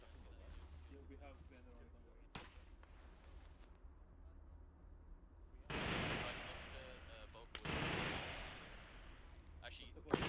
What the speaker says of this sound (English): we're taking fire from the west